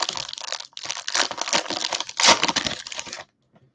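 A basketball card pack wrapper is torn and crinkled open in close, busy bursts of crackling plastic that end abruptly, with no talking.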